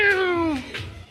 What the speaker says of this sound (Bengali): বিড়াল নিয়ে খেলা করছে, মাও